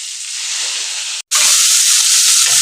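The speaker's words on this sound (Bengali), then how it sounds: "পেঁয়াজটাকে ভালো করে লাল করে ভেজে নেব" Chopped onions hit hot oil along with bay leaf, dried red chillies and whole garam masala, giving a loud, steady hiss and sizzle that briefly cuts out and then resumes even stronger.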